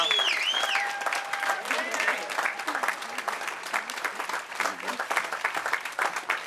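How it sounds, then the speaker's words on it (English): Audience applause at a hotel and casino grand opening in Milwaukee, a steady wash of clapping lasting throughout, with a crowd's chatter and a few voices mixed in under the clapping. "Can we give a huge, huge round of applause to Rodney Ferguson and Potawatomi Hotel and Casino."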